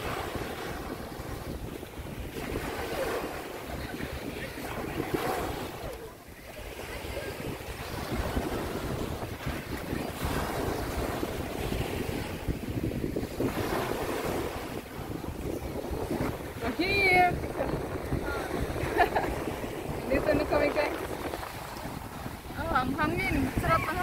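Sea waves wash and roll on the beach at Skegness over a steady blustery wind, with voices talking intermittently above the surf.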